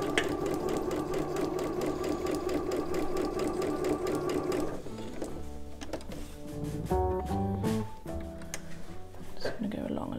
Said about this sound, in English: sew lines one going one way and then lines going the other way